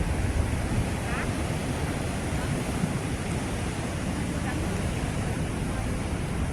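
Steady roar of typhoon surf and rushing sea water with wind buffeting the microphone, continuous and fairly loud throughout, no clear separate wave breaks.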